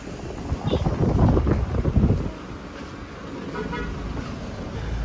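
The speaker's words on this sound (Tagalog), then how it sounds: "sarap ng hangin dito." Gusty wind buffets the microphone in low rumbling bursts, strongest early on, then settles into a steadier outdoor rush with faint vehicle noise, at a tarsier conservation area in Bohol, Philippines.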